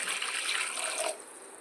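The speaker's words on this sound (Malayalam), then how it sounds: "വെള്ളം ഒഴിച്ച് കൊടുക്കണ്ടേ" Water splashes and pours steadily into a cooking pot for a mango curry for about a second, then tapers off into a softer trickle.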